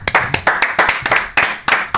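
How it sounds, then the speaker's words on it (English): Hand clapping on a podcast set, a quick run of sharp, close claps in uneven bursts, loud and dry with no talk over them. "Clap."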